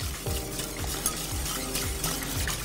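A spoon stirs lemon cream in a saucepan over moderate heat in steady, rhythmic strokes, with a soft scraping and light sizzle under the motion. The stirring is close and continuous, with no voices.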